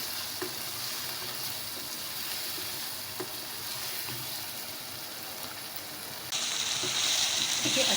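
Soy and chili sauce frying and being stirred in a pan with capsicum, a steady close sizzle with faint scraping, growing louder near the end.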